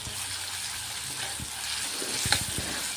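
A paste of garlic, ginger and cumin sautés with onion in a hot pan, a continuous close sizzle with a few spoon scrapes and knocks from stirring, no voices.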